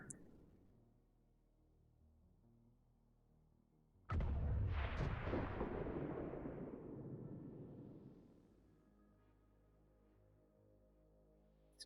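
A bomb explodes in the turn-based strategy game XCOM 2 Long War of the Chosen: one sudden heavy blast with a sharp crack, then a rumbling roar that fades over several seconds before quiet returns.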